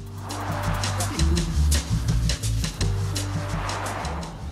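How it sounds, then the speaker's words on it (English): A 2019 Kia K900 luxury sedan in its top-of-the-line VIP trim pulls away. The engine hum is close and steady, and its pitch steps up as it accelerates, with some tire and road noise underneath. "Grab shotgun with me in this top of the line VIP model, and let's take her for a spin."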